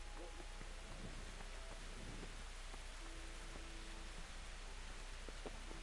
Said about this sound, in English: Is it raining in the game?